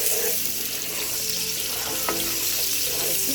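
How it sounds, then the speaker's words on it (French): Rice frying in a pot with a little salt, stirred in a steady close sizzle with faint scraping, continuous and loud with no talking. "Et je mélange."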